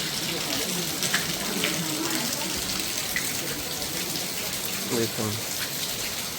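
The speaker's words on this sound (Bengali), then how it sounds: "বৃষ্টি হয়েই যাচ্ছে, থামার কোনো কথাই নেই" Heavy rain pours steadily onto a street in Vrindavan, a dense continuous hiss of drops hitting surfaces, with a brief spoken word partway through.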